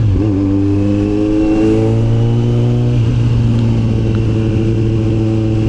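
A 2022 Kawasaki Z900 motorcycle engine revs loud and close inside a tunnel, with one steady climb in pitch that drops back and rises again over a continuous, echoing roar.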